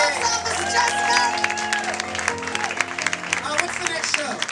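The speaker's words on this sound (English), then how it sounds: "Big round of applause for our clever man in the back." A theater audience applauds after a show, loud dense clapping with scattered sharp claps and cheers, continuing steadily and thinning slightly toward the end.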